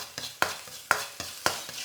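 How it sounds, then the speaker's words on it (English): Aromatics sizzle steadily in a pan while a utensil scrapes and stirs in four or five regular strokes. "So whilst that's sizzling away"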